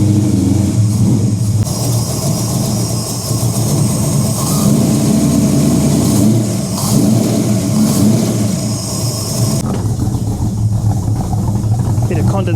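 A Ford XW with a 351 Cleveland V8 and Holley carburettor idles in a shed at a raised idle speed after a tune-up. It is a loud, steady, close rumble that continues for the whole stretch without pause.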